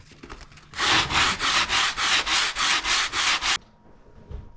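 Sandpaper rolled on a block rubs along teak deck seams on a wooden boat, a close, loud run of about ten steady back-and-forth strokes in even rhythm, then stopping.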